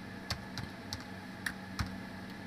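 A computer keyboard is tapped in a few separate, fairly sharp keystrokes at an uneven pace, close by and moderately quiet over a low steady hum, with no talking.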